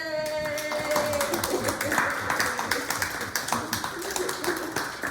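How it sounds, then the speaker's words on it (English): Group of people clapping hands together in unison during a laughter yoga exercise, a steady run of moderately loud claps with a brief voice at the start. "we just clap together"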